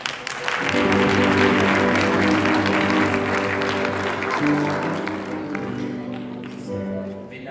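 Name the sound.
church congregation applause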